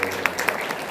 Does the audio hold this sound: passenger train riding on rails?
no